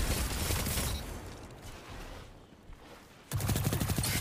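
An SMG in the video game Destiny fires loud rapid bursts, one at the start and another near the end, separated by a quieter stretch of softer mechanical noise.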